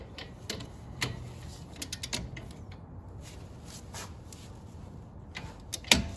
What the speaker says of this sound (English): we're gonna go ahead and torque the bolts that hold it on to 74 foot-pounds